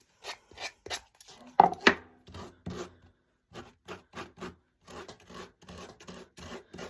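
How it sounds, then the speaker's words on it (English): A small Gator detail sander works along wooden edges at an angle, giving repeated short rasping strokes in uneven bursts with brief pauses between them, close and fairly loud. "I'm going to take my little Gator sander, and I'm just going to sand off at an angle the sides"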